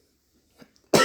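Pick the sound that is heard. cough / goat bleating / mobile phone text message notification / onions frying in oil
cough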